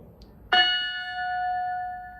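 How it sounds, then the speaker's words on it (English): A carillon's ceremonial bell struck once, a sharp metallic strike followed by a clear, sustained ringing tone that decays slowly, alone in a quiet room. "I'm going to use the ceremonial bell as a demonstration piece. Bells are supposed to sound kind of like that."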